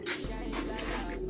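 Ringed pigeons coo softly and steadily up close, a low throaty murmur running through the whole short stretch over a noisy background.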